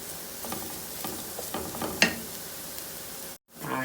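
Potatoes fry and roast in a pan with a soft, steady sizzle and light stirring scrapes, one sharper clink midway, before the sound briefly cuts out.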